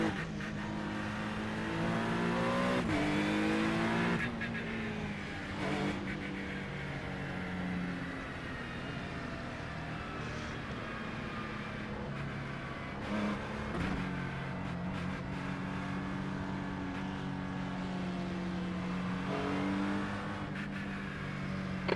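Race car engines roar and rev continuously in the iRacing sim, pitch climbing and dropping through gear changes, with occasional passing cars and a faint tire squeal, loud and steady throughout.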